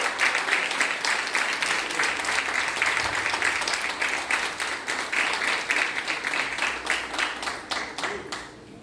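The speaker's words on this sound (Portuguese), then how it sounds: "Vamos aplaudir o Senhor pela vida dele." A church congregation applauds continuously at a worship service, a steady dense clapping that carries on throughout before tapering off near the end, with no voices rising above it.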